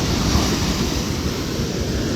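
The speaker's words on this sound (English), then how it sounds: "Watch the waves." Ocean waves wash onto a beach at night under a new moon, a steady, close roar of surf with some wind rumble and no voices.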